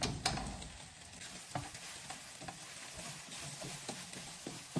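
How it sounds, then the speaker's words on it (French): Leftover rice with paprika being stirred in a frying pan, soft scraping and sizzling with occasional sharp knocks of the utensil against the pan, close and quiet with no voices. "je vais mettre du paprika. On va mélanger le tout."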